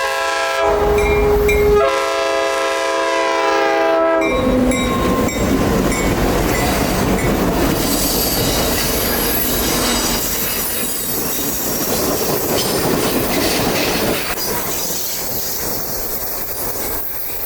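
U.S. Sugar Santa Express train passing close by: a loud horn blast opens, then heavy rumbling of cars rolling past with rhythmic clatter and squealing wheels, fading slightly toward the end.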